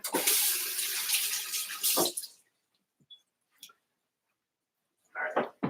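Tap water runs into a sink during handwashing for about two seconds, then stops, followed by faint clicks and a brief splash of water near the end.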